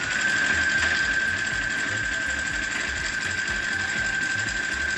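Domestic sewing machine running steadily while stitching a fabric beret, a continuous close whir with a thin high whine holding throughout, no voices.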